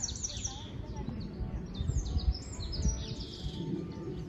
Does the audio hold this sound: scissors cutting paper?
no